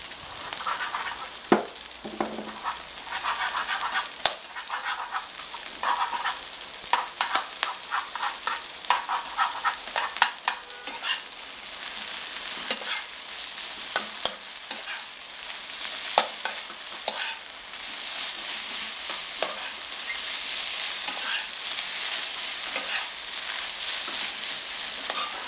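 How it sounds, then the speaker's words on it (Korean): Rice stir-fried with sesame oil in a pan, a long continuous crackling sizzle dotted with frequent scraping clicks from stirring, close and steady throughout. "살짝 익을 때까지 기다렸다가 참기름을 넣고 같이 볶아준다"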